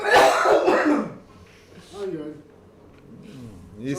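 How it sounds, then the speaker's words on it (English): A man at a billiards tournament coughs in a loud, rough burst at the start, and quieter talk follows. "heard his name and started coughing"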